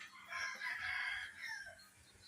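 Hens in a farmyard cluck and squabble over feed, their busy chatter rising and falling continuously throughout, close and moderately loud.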